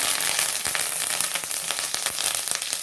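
Dried red chillies and curry leaves crackle in hot oil after the mustard seeds have popped, a loud, close sizzle broken by rapid sharp pops and spits.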